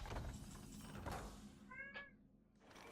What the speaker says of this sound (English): Now it's a cat.